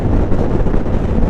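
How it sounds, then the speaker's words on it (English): Heavy wind buffets the helmet microphone on a Yamaha R7 motorcycle, a loud, continuous low roar with nothing else audible over it. "it is windy as hell"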